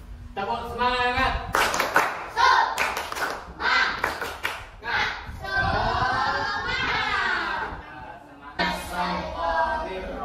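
A group of children does a rhythmic clapping chant, patterned bursts of hand claps alternating with sung or chanted voices in a lively, close classroom-style setting.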